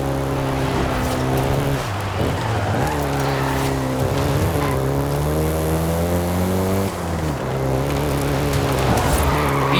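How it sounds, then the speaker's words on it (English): A Volkswagen Golf GTI engine revving hard in Forza 5, loud and continuous, climbing through the gears with several shift dips and tire noise over a steady roar. "the Golf GTI you're driving right now"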